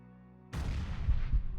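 A grenade detonates in the sci-fi video game Quasimorph: after near silence, a sudden loud blast breaks out and trails into a rumbling, crackling decay.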